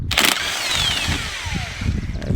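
A power tool whirs a 17 mm nut off a rear shock absorber on a Hyundai Palisade, a short loud burst at the start, then a fading whine and some knocking and rattling close by.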